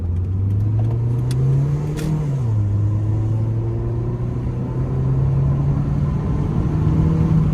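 A car pulling out of a parking lot, its engine rumbling loud and close as it accelerates, the pitch rising, dipping briefly at a gear change, then climbing steadily again.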